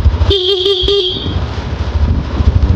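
A motorcycle horn toots in a few short, rapid bursts close by during a pre-trip check, then stops, leaving a low idling engine rumble.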